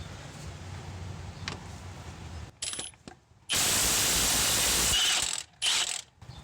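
A mid-torque impact gun with a standard 19 mm socket hammers off a crank bolt on a Honda Odyssey, firing in short bursts. A long loud rattling burst sits between a few brief blips, with quieter workshop noise and ratcheting before them.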